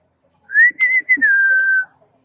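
A person at Port Lympne Zoo whistles to call a rhino, giving one clear, sustained high whistle of about a second and a half with a few brief breaks near the start, close and alone.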